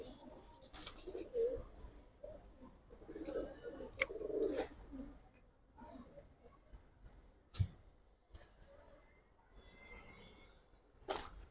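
Pigeons in a seller's collection give soft, low cooing calls in several short bouts, fairly faint and close, along with a few sharp knocks and rustles and no talk.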